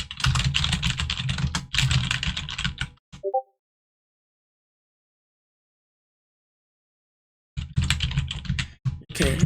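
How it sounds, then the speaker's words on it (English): Random text typed on a computer keyboard in two bursts of rapid, fairly close key clicks, separated by a long stretch of silence with a brief faint tone between them. "let's just type in random things"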